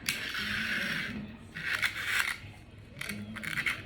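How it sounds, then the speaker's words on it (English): A razor blade slicing off excess window screen material during a broken screen repair, giving bursts of crisp scraping and cutting strokes with brief pauses between them, close and fairly loud. "Then I just take a razor blade and cut off"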